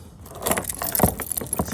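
Keys to a customer's Volkswagen Passat jangle up close in quick metallic shakes, a short bright burst of clinking with a few sharper hits toward the end.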